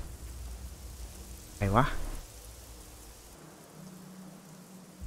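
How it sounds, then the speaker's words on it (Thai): Steady rain hiss in the video game Generation Zero, falling continuously at moderate level, interrupted by a brief spoken exclamation near the middle and thinning toward the end. "ถึงฝนจะตกแต่ตัวก็ไม่เปียก"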